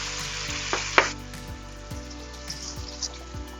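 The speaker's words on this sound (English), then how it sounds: "Then let's add the tomato sauce we made." Tomato sauce poured into a pan of frying diced onion, giving a steady close sizzle with a few clinks and stirring knocks from a utensil against the pan.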